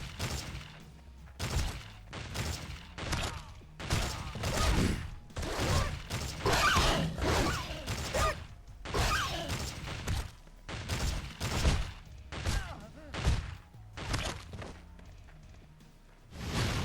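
Raider rifles firing in a video game, repeated sharp shots in quick, uneven volleys across a long stretch, with mechanical clanks and thuds in between, loud and close.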